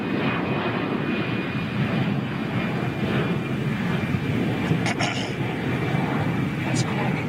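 An Air Senegal Airbus airliner taxiing under its own power at Toulouse, its engines a steady, continuous broadband roar that stays level throughout, with no talk over it.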